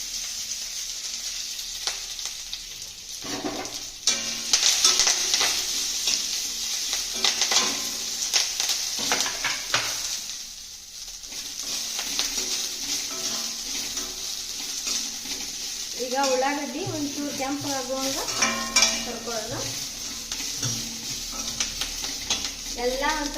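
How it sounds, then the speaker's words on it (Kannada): Chopped onion and curry leaves sizzle in a pan over low flame for tomato chutney, with a continuous frying hiss, repeated scraping stirs of a spoon against the pan, and a voice speaking briefly toward the end. "ಸ್ವಲ್ಪ ಲೋ ಫ್ಲೇಮ್ನಾಗ ಹುರ್ಕೊಳಕತ್ತೀವಿ ನಾವು"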